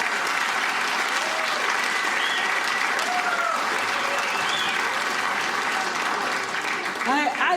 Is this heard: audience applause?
yes